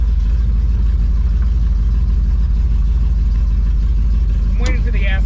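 A 1968 Chevy Camaro idles steadily at close range with a deep, continuous low rumble throughout, and a brief squeak or voice-like sound near the end.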